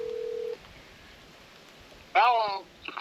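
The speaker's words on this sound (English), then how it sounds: "So I'm gonna call Dad on the phone" A steady telephone tone opens, followed by a brief louder burst of harmonic tones near the end, as a call is placed outdoors while rain falls in the background.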